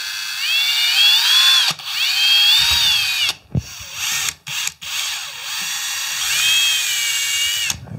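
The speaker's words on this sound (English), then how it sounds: "nice thing about working with plastic is it's pretty easy to drill" A power drill bores through plastic on a Yamaha Raptor 660 ATV, whining in three bursts of rising and falling motor pitch separated by short pauses and a few clicks and knocks, close and loud.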